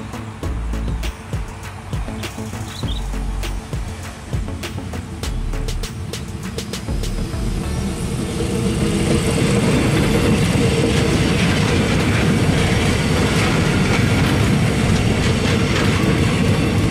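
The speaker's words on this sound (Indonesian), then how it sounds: "PKD-nya menunggu hingga kereta benar-benar keluar dari peron." KRL commuter train pulling out of the platform, with wheel clicks and rattling at first, then building into a loud, steady rumbling roar of passing cars, with no talking.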